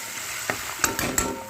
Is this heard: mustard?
yes